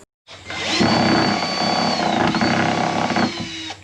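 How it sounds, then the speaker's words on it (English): A power drill backs old screws out of a wooden deck during demolition, with a loud steady whine that holds for several seconds close to the microphone and dips briefly partway through. "So kids are helping, taking out the screws."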